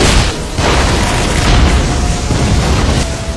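Anime-style explosion sound effect: a loud, dense broadband boom that fills the clip for its whole length without letting up, roaring steadily with no voices heard over it.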